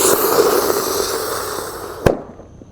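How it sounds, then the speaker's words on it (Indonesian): A mercon rotator firecracker lit inside a hole in the ground gives a steady roaring, hissing spin for about two seconds, ending in a single sharp pop before the sound cuts out. "Selanjutnya di sini ada mercon rotator."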